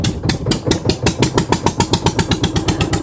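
A boat engine chugs as the boat sets off on a trip in the Sundarbans area near Kolkata. The steady, rapid thumping pulses stay loud and close throughout.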